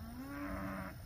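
A single drawn-out moo from cattle on a Southwest Arkansas pasture farm as the herd is moved to a fresh evening paddock, one low steady call lasting about a second, heard alone at a moderate distance.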